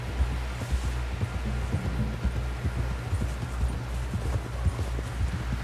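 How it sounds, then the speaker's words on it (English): Steady rhythmic hoofbeats of a galloping horse in Red Dead Redemption 2 thud continuously over a low rumbling background, without any talking. "Someone help John down off this horse."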